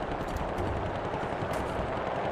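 Machine gun strafing fire in War Thunder, a dense continuous rattle of rapid shots with muffled booms underneath, loud and unbroken with no talk over it.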